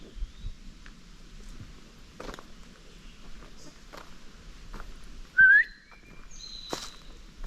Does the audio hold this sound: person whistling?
yes